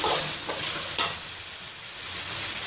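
Julienned carrots cooking in a tomato pasta sauce in a pan give a continuous close sizzle, with a couple of brief scraping stirs near the start and no talking.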